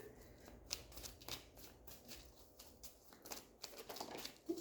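Archangel Oracle cards are shuffled in a soft, continuous flutter of riffling and sliding card stock, close but faint, with occasional light taps and no talking.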